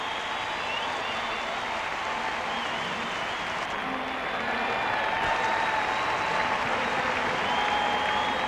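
A capacity crowd of about 49,000 at a 1996 Expos–Braves baseball game gives a standing ovation, a dense, sustained roar of applause and cheering that swells slightly toward the end.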